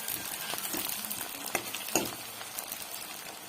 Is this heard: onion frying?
yes